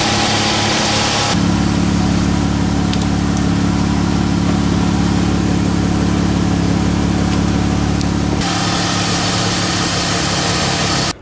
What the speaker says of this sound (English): now that both cars are running